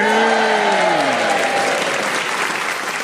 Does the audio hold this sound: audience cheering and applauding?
yes